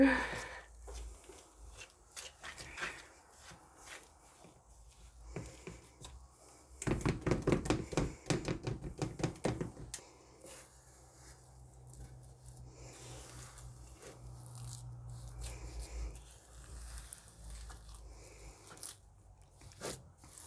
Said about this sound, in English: I'm just continuously stirring it, and I'm going to continue until it is going to start to form a bowl consistency